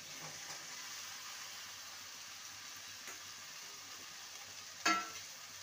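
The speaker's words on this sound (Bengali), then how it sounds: "এবারে ভেজে রাখা আলু আর ভেন্ডি দিয়ে দেবো" Fried potato and okra stir-fried with spices in a pan give a steady, soft sizzle throughout, with a sharper clatter of stirring near the end.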